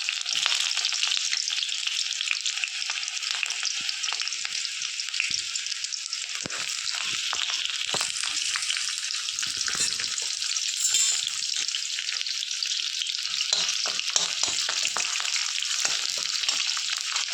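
Chopped onions frying in hot oil with cumin seeds and bay leaves for a drumstick curry, a steady dense sizzle throughout with occasional stirring scrapes, close and fairly loud with no talking.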